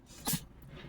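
A dog's short, sharp sneeze, a single snorting burst near the middle, close and fairly loud, followed by quiet indoor background with no talking.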